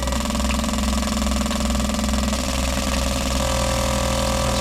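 Fuel injectors pulse on a flow testing and cleaning bench at a set duty cycle of around 2,500 RPM, giving a loud, steady, rapid mechanical buzz that holds unchanged throughout.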